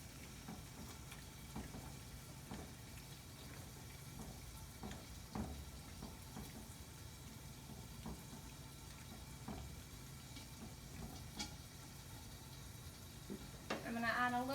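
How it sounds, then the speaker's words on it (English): A dish covered in marinara sizzles and fries steadily in a pan while it gets stirred, with soft scraping and clinking strokes spread through, quiet and close, plus a brief watery burst at the very end. "Give it another stir here."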